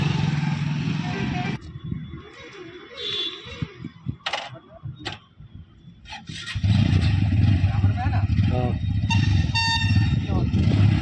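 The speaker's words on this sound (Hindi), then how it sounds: "तो अब ये ड्रैग रेस को स्टार्ट करते हैं।" Two Bajaj Pulsar N160 motorcycles, a BS7 and a BS6, line up for a drag race: loud horn blasts and voices come first, then close, heavy engine rumble swells and holds steady to the end.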